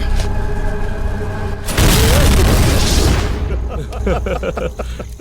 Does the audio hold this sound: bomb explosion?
yes